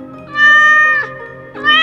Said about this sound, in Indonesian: terdengar lagi suara kucing itu